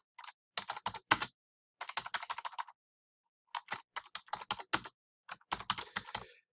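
Someone types on a computer keyboard in quick clustered bursts of crisp key clicks separated by short pauses, close and clear with no talk.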